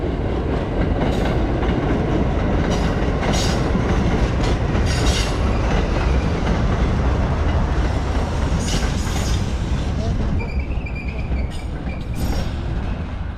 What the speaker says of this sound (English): Another train arrives